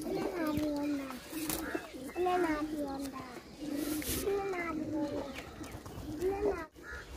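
Famous Sialkot pigeons coo repeatedly at close range in soft, rolling calls, while someone talks over them throughout.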